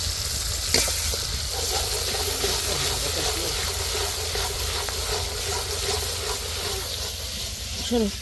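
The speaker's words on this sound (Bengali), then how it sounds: "এখানে পেঁয়াজ মরিচ দিয়ে দিছে এখন হলো আদা বাটা দিয়ে দিল" Onion, chili and ginger paste fry in a pan with a loud, continuous sizzle and hiss, steady throughout with occasional stirring scrapes and a brief clatter near the start, while a voice speaks faintly underneath.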